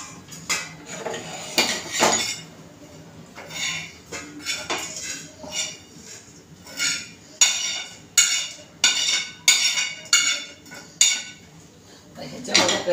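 A spatula scrapes and clinks against a pan while roasted coconut is moved onto a plate, giving repeated close metallic knocks and scrapes in irregular bursts.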